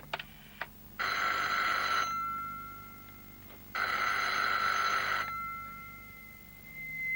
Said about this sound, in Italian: Alle 8:29 il dottor Scofield ha fatto una telefonata al suo ufficio.